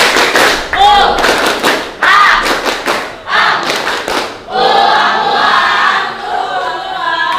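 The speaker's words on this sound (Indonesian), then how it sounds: "tepuk ekonomi" Schoolchildren in a classroom perform the 'tepuk ekonomi' clapping chant, with loud, rhythmic group claps in bursts mixed with chanted voices, ending in sustained shouting.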